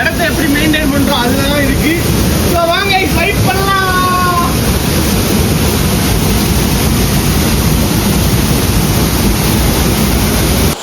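A waterfall pours between rocks, a loud, constant roar of rushing water. Birds chirp in the first few seconds.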